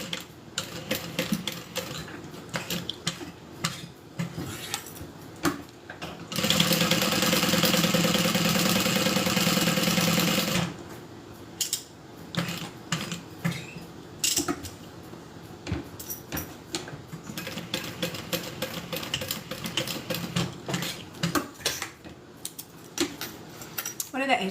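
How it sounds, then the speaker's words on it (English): A sewing machine stitches the zipper panel of a handbag in one sustained whirring run of about four seconds. Before and after it come scattered clicks and clatter from handling the fabric and machine. "let's go ahead and sew this in place"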